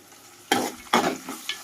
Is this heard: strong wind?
no